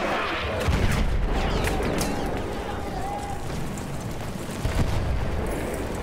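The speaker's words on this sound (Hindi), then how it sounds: "इन्होंने सारी बिल्डिंग ही उड़ा दी यार" A building blown up by bombardment in the video game Battlefield 1 makes a continuous heavy rumble of explosions and debris, loud and dense throughout, with a voice talking over it.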